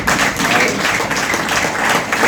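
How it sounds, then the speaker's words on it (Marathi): An audience at a book release claps together, steady and loud throughout the short burst of applause with no pause. "कृपया सर्वांनी जोरदार टाळ्या"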